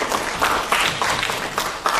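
Audience applause at a Korean Buddhist academic conference following a presentation on Sri Lankan Buddhism, a steady wash of clapping from a seated crowd with slight swells, sustained throughout.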